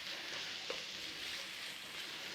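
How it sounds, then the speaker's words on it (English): Gentle, steady sizzling of leeks frying in butter in a pan, close and continuous, with a faint stir of a utensil. "we need to be giving them a little bit of a frying in there"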